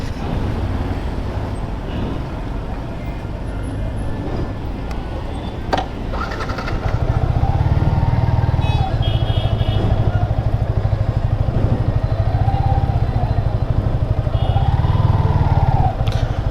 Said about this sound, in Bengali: ওই যে একটা বাইক আসছে